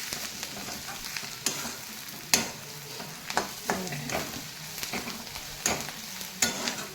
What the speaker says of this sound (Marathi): आता हळद चांगली तेलामध्ये परतळून घेतली.